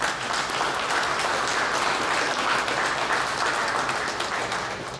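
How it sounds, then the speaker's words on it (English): Sustained audience applause for a boss at a company meeting, steady dense clapping from a large crowd filling the whole stretch, loud and even, with a slight taper at the end. "Round of applause for the boss."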